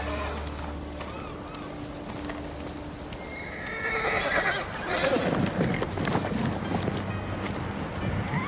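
A horse in the video game Ghost of Tsushima, wearing armor, neighs and whinnies loudly while its hooves clip-clop nearby, with the activity growing busier after the first few seconds.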